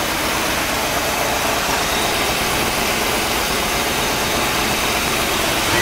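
A 1964 Cadillac engine runs steadily at idle, a loud, dense, continuous rumble close by with no pauses or talking.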